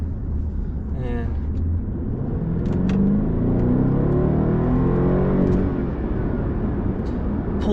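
A BMW 650i with a twin-turbo V8 pulls hard from a rolling start to about 50 mph, its engine note climbing in pitch as it accelerates, a loud steady roar heard from inside the car.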